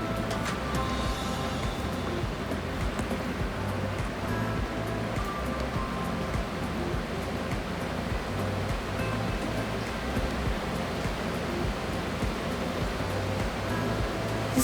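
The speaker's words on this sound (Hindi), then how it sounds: "सो आप ये देख सकते हो नेचुरल वाटरफॉल" A natural waterfall spills straight down a mountainside on a hike in Uttarakhand, making a steady, dense, unbroken roar of rushing water that stays constant throughout, close and full.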